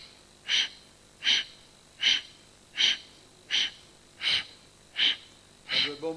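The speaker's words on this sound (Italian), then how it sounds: "Questa respirazione si chiama Kapalabhati." Kapalabhati yoga breathing through the nose: eight sharp, forceful nasal exhalations in a steady rhythm about once every three quarters of a second, close and alone.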